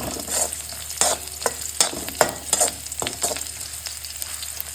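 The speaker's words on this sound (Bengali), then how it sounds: "এবার এটাকে একটু হালকা হাতে নাড়াচাড়া করে নিই" Chopped ginger gets stirred in a hot frying pan for dragon chicken, a soft sizzle running under repeated scrapes and clicks of a spatula against the pan, close by with no voices.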